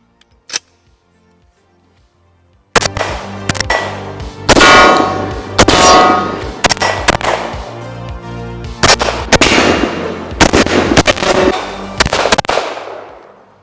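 Glock 36 pistol firing 230 grain American Eagle FMJ rounds outdoors, a rapid string of loud, close gunshots with sharp metallic cracks and ringing echoes after a quiet start, no talk.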